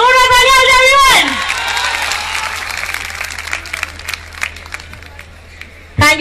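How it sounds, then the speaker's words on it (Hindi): Loud crowd applause and cheering at a packed public event in Muzaffarpur, Bihar, a dense wash of clapping lasting several seconds after a voice at the start, then a brief burst of speech at the end. "जोरदार तालियां हो जाएगी एवरीवन"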